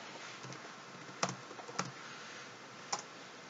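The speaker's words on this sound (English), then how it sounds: "I can't see what I'm typing." A computer keyboard being typed on, with sparse, soft clicks and a few sharper isolated keystrokes spread unevenly over a quiet room background.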